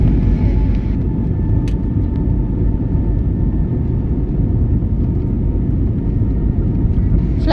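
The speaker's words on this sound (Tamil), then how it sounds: "ஃப்ளைட் இப்போது டேக் ஆஃப் ஆகுது." An IndiGo airliner takes off, a steady broadband roar of jet engines and rumble heard from inside or near the aircraft, continuous and loud throughout with no pauses.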